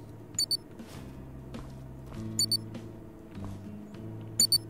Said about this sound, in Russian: Это прямо рядышком пикает, да?